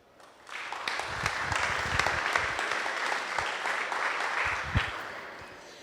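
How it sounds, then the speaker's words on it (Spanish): An audience at a cybersecurity meetup bursts into applause welcoming a speaker, a dense steady wash of clapping that starts abruptly and holds evenly for several seconds. "así que por favor recibámoslo con un aplauso"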